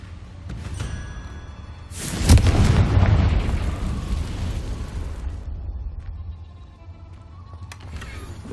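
A Confringo blasting curse in Hogwarts Legacy goes off as one loud, close explosion with a sharp crack and a rumbling whoosh, then fades slowly into a low roar.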